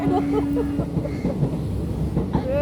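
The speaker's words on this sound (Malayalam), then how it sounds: "ട്രെയിൻ പോകുന്നുണ്ട് ട്രെയിൻ പോകുന്നുണ്ട്" A train passes nearby with a steady low rumble and rattling, while faint voices and a short tonal whine sound over it.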